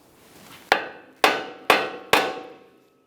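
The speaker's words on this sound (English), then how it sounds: "just go ahead and use the hammer and give the knuckle a couple loving bonks" Four firm hammer strikes land on the steering knuckle of a 2003-2007 Honda Accord to free the upper ball joint, evenly spaced, close and resonant, each fading quickly.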